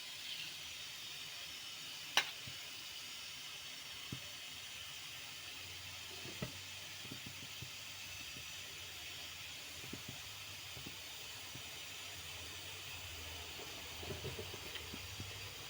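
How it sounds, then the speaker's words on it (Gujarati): Cumin seeds sizzle faintly in hot oil for a bitter gourd curry, a soft steady hiss with scattered small pops and crackles after one sharp click. "તેલ મૂક્યું છે અમે કારેલાને વઘારવા માટે તો હવે આપણે જીરું મૂકીશું"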